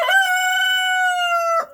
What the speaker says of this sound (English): after he gets done crowing.